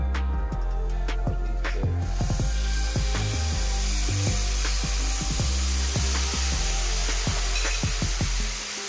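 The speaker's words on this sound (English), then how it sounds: "Let that teriyaki cook up." Steady broadband sizzling of teriyaki in a pan fills the clip after a sudden onset, dotted with scattered clicks and scrapes of utensils against the pan.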